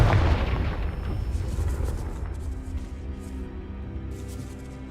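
A Confringo blasting spell explodes in Hogwarts Legacy, a heavy boom at the start whose low rumble and debris roll on and fade over several seconds.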